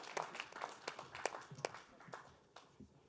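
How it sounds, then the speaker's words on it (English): Audience applause after a startup pitch at a live competition event, a thin, fairly faint patter of claps with irregular rhythm that tapers off toward the end. "Give them a big round of applause."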